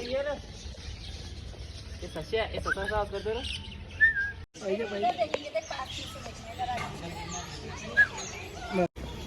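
Parrot chirps and whistled calls ring out over nearby chatter at a zoo, with a few sharp squawks standing out above the talk.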